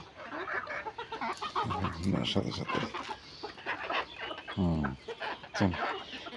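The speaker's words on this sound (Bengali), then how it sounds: "এগুলি এরা ভুট্টা খায় মানুষ, দেওয়ার সাথে সাথেই শেষ" Desi hens eating corn scattered on the ground cluck and squawk close by, overlapping in busy bursts, while a person talks over them.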